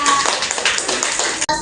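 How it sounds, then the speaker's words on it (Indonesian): Third-grade classroom children clapping for a group, a dense burst of many small hands lasting over a second, near and fairly loud, stopping abruptly. "Berikan tepuk tangan kepada kelompok 2."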